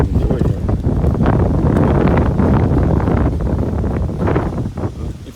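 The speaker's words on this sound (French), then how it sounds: "Il fait trop de vent." Strong wind buffets an outdoor microphone, producing loud, continuous low roaring gusts that rise and fall for several seconds with no clear talk.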